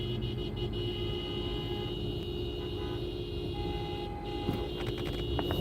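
Car horns honking outside during a live stream, several sustained and overlapping toots that blare continuously at moderate loudness over low traffic rumble, with no talking.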